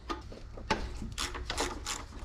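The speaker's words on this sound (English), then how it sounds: "You'll need a deep well 19 mil socket." A ratchet clicks while turning a deep well 19 mm socket during a timing kit job on a 300ZX, giving a few quiet, close, uneven bursts of clicking with no talk.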